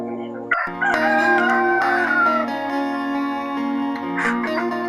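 Australorp cross rooster crowing loudly and close, one long drawn-out call with a harmonic, ringing tone that holds for several seconds among chickens.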